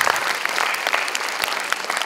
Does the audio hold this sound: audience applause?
yes